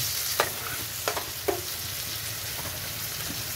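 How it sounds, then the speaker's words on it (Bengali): Chopped onions fry in a pan with tomato and prawns, a steady sizzle broken by three sharp stirring scrapes early on, close by with no voices. "কাটা পেঁয়াজ দিলাম।"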